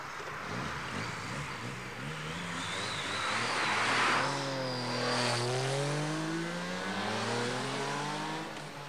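A car speeds past at about 115 km/h on a 50 km/h road in the Alpes-Maritimes, its engine note rising and then falling away in a clear pass-by that builds and fades over several seconds.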